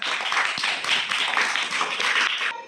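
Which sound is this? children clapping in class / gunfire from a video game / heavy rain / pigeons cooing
children clapping in class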